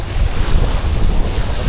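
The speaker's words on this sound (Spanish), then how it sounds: "está soplando fuerte el viento, miren el tamaño de las olas" Strong wind roars and buffets the microphone while waves surge and splash around a kayak at sea during a drizzly storm near an island, loud and continuous with no voices.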